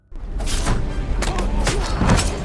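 Fighter jets firing relentless barrages in an action film, heavy booming bursts of cannon fire in quick succession, loud and close over a rumbling low end.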